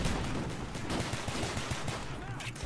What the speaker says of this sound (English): Shotgun versus shotgun. Who will win?